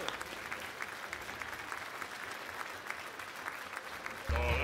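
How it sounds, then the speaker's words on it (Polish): Audience at a concert breaks into sustained applause, steady dense clapping from a crowd heard at moderate distance, ending abruptly as a louder sound cuts in. "Poproszę o klaski."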